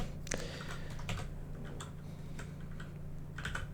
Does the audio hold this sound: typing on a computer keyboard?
yes